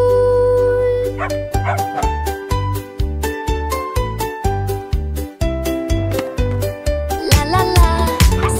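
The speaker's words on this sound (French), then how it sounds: "Chante une chanson de chien rapide et joyeuse." Cartoon puppies bark and yip rhythmically in a fast, happy dog song, the loud yelps landing on the beat over bouncy music with steady bass notes.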